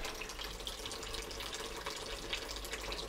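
Water running and trickling steadily as a tank or tub drains, a continuous close splashing gurgle with no talk.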